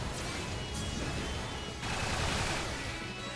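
Gunfire in the video game Earth Defense Force, a faint dense crackle of rapid shots and bursts running continuously with sharp cracks breaking through, no talking.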